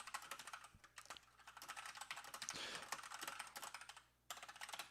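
Rapid typing on a computer keyboard, dense quick clicks in a steady stream with a brief pause near the end, close but recorded at low level, no talking.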